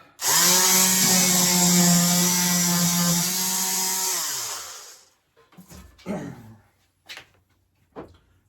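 Power sander working wood on a model railway layout, a loud steady whine for about five seconds that winds down, followed by a few short scraping and tapping sounds nearby.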